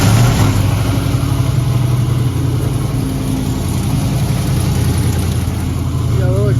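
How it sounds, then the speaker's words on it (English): A 1967 Camaro with a 6.0 LS V8 and a Texas Speed cam runs at a steady, loud, slightly high cold idle, with someone talking briefly near the end. "Start it up here in a minute."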